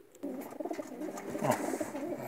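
A pigeon coos close by in a few soft, low, throaty bursts, heard alone without talk.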